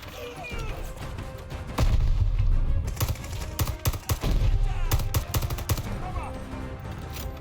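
Gunfire in Call of Duty: Vanguard comes as repeated sharp shots and bursts, some clustered into rapid volleys, beneath a steady game background. A person speaks throughout.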